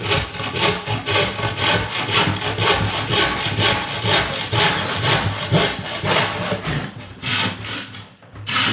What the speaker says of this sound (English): Important thing is to cut across the face first.